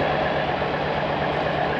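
A cattle truck idles at a livestock loading ramp, giving a steady, loud low engine rumble with broadband noise that holds unbroken throughout.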